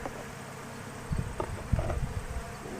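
Honey bees buzzing around an open beehive during a hive inspection, a steady low hum of many insects with a few nearby thumps and handling noises, no talk.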